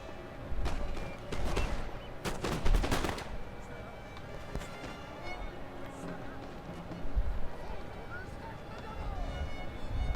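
Musket volleys fired at town buildings during an online Napoleon: Total War battle at Salamanca: a cluster of crackling shots early on, then scattered distant pops over a busy battle din, with a voice talking throughout.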